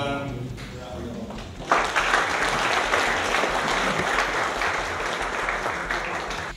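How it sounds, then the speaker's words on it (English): Warm applause from an audience at a regional awards ceremony honouring stakeholder partners, starting after a faint voice and swelling into a dense, steady round of clapping that carries on loud to the end. "give every one of them a warm round of"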